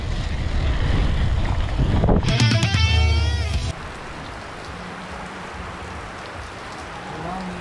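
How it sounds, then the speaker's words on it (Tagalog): Heavy rain pours down on a long outdoor bicycle ride, a loud, dense hiss with wind buffeting the microphone and a brief rougher burst partway through before the downpour settles to a steady roar. "inabot namin ng malakas ulan"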